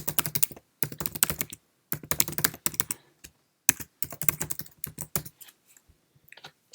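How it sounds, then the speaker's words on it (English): A Mac computer keyboard is typed on up close in quick clustered bursts of key clicks, broken by short silent pauses between words. "Let's type that in now."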